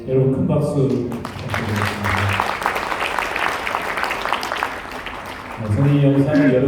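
An audience at the Korea Child Welfare Association's 70th anniversary ceremony bursts into dense, sustained applause for several seconds, framed by a voice before and after.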